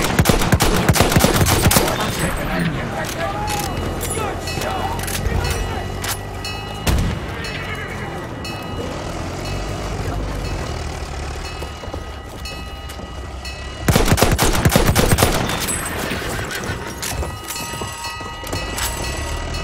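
Battlefield 1 battle on the Suez map in Rush mode, with gunfire and rumbling combat noise running dense and loud throughout, sharper bursts near the start and again from about 14 seconds, a voice briefly heard in the mix.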